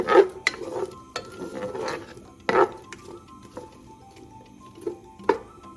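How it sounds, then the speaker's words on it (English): A spatula stirring onions as they sizzle in a pan for cauliflower maqlooba, with scraping strokes and sharp clacks against the pan over a steady frying hiss; close and fairly loud, no talking. "grab a nice spatula and give it a nice stir."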